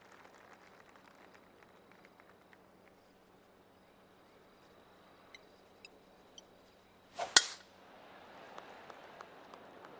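A golf tee shot in PGA Tour 2K23 gives one sharp, crisp club strike over quiet ambience with faint ticks, followed by a soft crowd-like wash.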